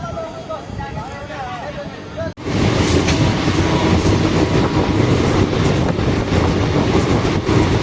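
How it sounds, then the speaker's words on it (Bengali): A passenger train on the Sealdah to Guwahati route rumbles loudly after a brief quieter stretch, with steady wheel clatter and a continuous low roar heard from inside the coach. Voices murmur faintly underneath. "ট্রেন পুরো 6:50-এই ট্রেন চলতে শুরু করলো।"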